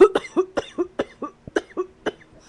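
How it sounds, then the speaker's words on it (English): A run of about ten sharp, close coughs in quick, uneven succession, loud and clear with no talking. "How to not cough on camera."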